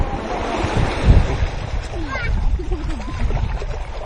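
Ocean waves surge and wash on Pagudpud beach, a continuous low rumble with gusty wind noise on the microphone and a brief voice partway through.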